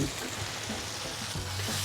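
Gnocchi sizzling and frying in butter in a pan, a steady close crackle with no talking.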